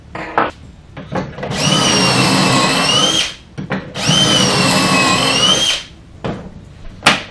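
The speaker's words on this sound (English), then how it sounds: "and then drill into them." A power drill whines loudly in two long runs of about two seconds each, with the bit grinding into workbench wood pieces set in a jig and short knocks between runs.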